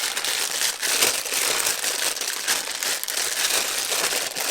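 Plastic bag crinkling and crackling loudly and continuously while a rubbery flexible Neewer 12-inch tripod is pulled free of its wrapping, close up and without talk.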